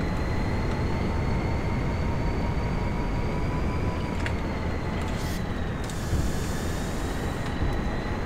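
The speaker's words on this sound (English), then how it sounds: "the guy's driving into a train" A train rumbles steadily in GTA 5 Online, a dense broadband roar with faint tonal whines and occasional sharp clicks, close and continuous throughout.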